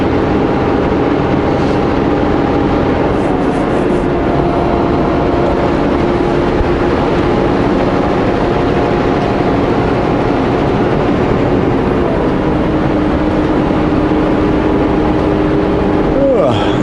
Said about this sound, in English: Of course you guys should hear the truck a little bit